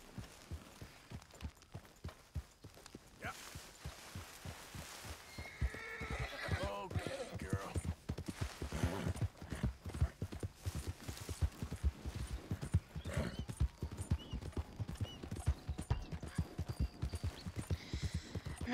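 A horse in Red Dead Redemption 2 neighs and whinnies over a steady clip-clop of hooves that runs through the whole stretch, fairly close and prominent.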